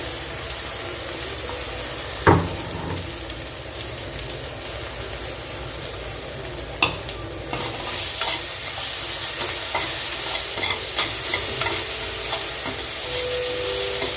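Amaranth greens (mulai keerai) sizzle and crackle in a hot pan over low flame with a steady hiss, broken by a couple of sharp scrapes of a spatula stirring.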